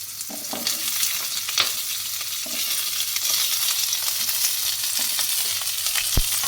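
Onions, green chillies and curry leaves frying in oil in a wok for radish chutney, a constant close sizzle broken by stirring clicks and scrapes, with no voices.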